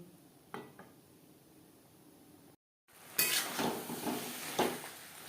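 Chana masala cooking with mutton fat on a medium flame: a spoon clinks and scrapes through the pan under a soft sizzle, faint at first, then louder stirring after a short silent gap.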